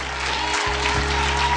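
Congregation applauding during a church sermon, a dense, steady wash of clapping from a crowd over a low sustained hum.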